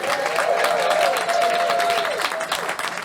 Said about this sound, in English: how about a nice big warm round of applause for our returning special guest comedian